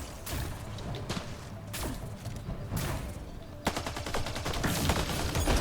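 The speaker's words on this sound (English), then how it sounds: "Who's shooting ice at me? I believe somebody was using like cryo ammo," Gunfire with cryo ammo in the video game Mass Effect Andromeda comes as sharp shots and short bursts, ending in a dense rapid volley of automatic fire that grows louder.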